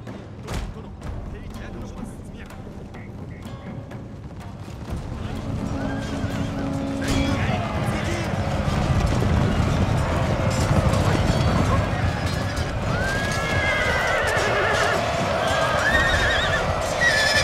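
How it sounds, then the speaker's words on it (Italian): Horses neigh and whinny repeatedly over thudding hooves and a rising battle din in the video game Total War: Shogun 2, growing louder and denser as cavalry moves. "La cavalleria dovrà smontare da cavallo prima di poter tentare la conquista dell'edificio."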